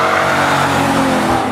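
A Chevy front-wheel-drive car fitted with a big V8 engine, loud and close, with a dense roaring exhaust note under hard revving and a slight pitch rise near the end, no voices.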